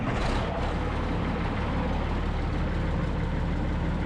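An old bulldozer's engine runs at a steady, loud, low idle, a continuous heavy rumble that holds throughout with no talk over it.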